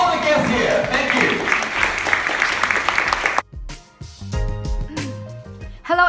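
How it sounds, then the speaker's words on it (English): Applause from an audience welcoming guests at a launch event swells loud and dense for about three seconds, then cuts off abruptly into music and voices. "Ladies and gentlemen, our applause for all the guests here."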